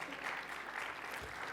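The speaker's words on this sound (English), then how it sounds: "give yourself a round of applause." Brief burst of applause from a conference audience at a general session, steady clapping throughout, heard at a moderate distance.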